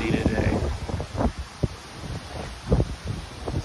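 Strong outdoor wind buffets the microphone in steady rumbling gusts, with brief rustling bursts and someone talking over it now and then.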